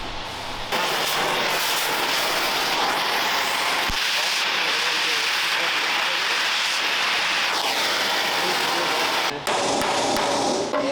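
Hot rivets being hammered out of a WW2 German Wespe self-propelled gun's running gear, a dense run of loud, rapid metallic blows, likely an air hammer, continuing steadily for several seconds before stopping abruptly near the end.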